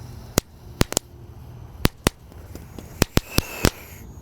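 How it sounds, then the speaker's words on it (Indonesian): Thor tank firecrackers, a wheeled tank-shaped banger that rolls along as it fires, go off in a rapid irregular string of about a dozen sharp, loud cracks and pops, some close together, over faint background. "Selanjutnya yang kita nyalakan di sini ada mercon tank Thor guys."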